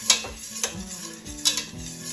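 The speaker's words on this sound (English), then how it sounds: "I'm going to keep going, add a little more, keep stirring" Homemade burrito sauce is stirred in a pan as water is added, with three distinct scraping-clink strokes of a utensil over a faint low sizzle, close and fairly quiet.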